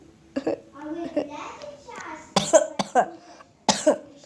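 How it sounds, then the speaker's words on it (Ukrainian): Several short, harsh coughs break out amid casual talk during Minecraft gameplay, coming in quick bursts near the end with a voice speaking in between. "Плюс я кашляю."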